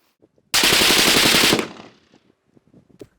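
A German Heckler & Koch MG5 machine gun fires one loud, close burst of rapid automatic shots lasting about a second, followed by a fading echo and faint handling noises.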